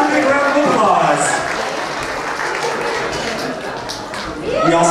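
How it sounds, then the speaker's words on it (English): Guests at a 2003 wedding reception applaud as the bridal party enters, a steady wash of clapping from the room with an announcer's voice carrying over it. "Let's welcome them with a big round of applause."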